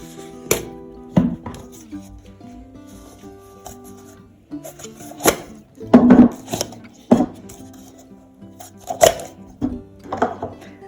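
Flip caps on Mont Marte plastic paint water cups being opened: a series of small plastic clicks, snaps and rubbing knocks at irregular intervals, close and fairly crisp, with no talk.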